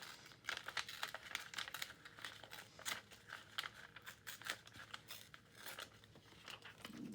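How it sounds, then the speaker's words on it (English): Scissors snip through paper, then the paper is torn, with a rapid run of close, crisp cutting and crinkling sounds and rustles, steady throughout and with no talking. "it does say tear, so I'm starting out cutting, but then I'll finish up with a tear"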